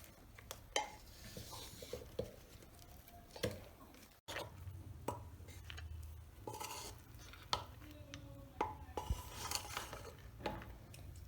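Green peas pulao being stirred in a pressure cooker, with irregular metal scraping and clinks of a spoon against the pot, some louder knocks, a faint sizzle underneath, and no talking.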